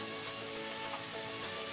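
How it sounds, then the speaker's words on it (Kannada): Prawns frying over a medium flame for a Mangalorean prawn curry give a steady, soft sizzle, even and continuous with no voices. "ಈಗ ನಾವಿದನ್ನು ಮೀಡಿಯಂ ಫ್ಲೇಮ್ ಅಲ್ಲಿ ಒಂದು 2 ಮಿನಿಟ್ಸ್ ಈ ರೀತಿ ಫ್ರೈ ಮಾಡ್ಕೊಳ್ಳುವ"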